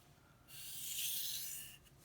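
A kitchen knife drawn against the abrasive stone of an EdgeWright sharpener gives one steady, soft rasping stroke that swells and fades over about a second and a half, close and quiet, with no talking.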